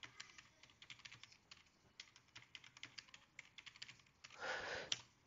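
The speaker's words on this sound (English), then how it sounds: "Let's key in the required username and password to connect to this virtual machine." Username and password keyed in on a computer keyboard for a virtual machine login, heard as a steady run of close, light key clicks with brief pauses, ending in a short denser burst of keystrokes.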